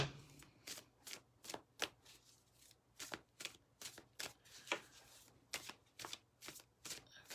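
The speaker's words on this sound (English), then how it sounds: "I'm going to do a shuffle on the deck" Tarot cards riffle and slap in a steady rhythm of quick, crisp bursts, close up and fairly quiet, with no talking.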